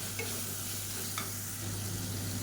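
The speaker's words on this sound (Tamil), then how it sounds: "மீடியம் சைஸாக ஒரு தக்காளி சேர்த்துக்கலாம் தக்காளி நல்லா வதங்கட்டும்" Tomato with ginger garlic paste sautéed in a pan gives a dense continuous sizzle with stirring scrapes, close and steady throughout, with no voices.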